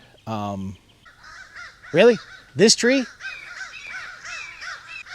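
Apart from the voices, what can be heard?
crows cawing while fighting with a hawk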